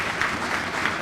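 An audience at an awards ceremony applauds in a brief burst of continuous, fairly close clapping, an even crackling wash with a few slightly louder swells and no talk over it.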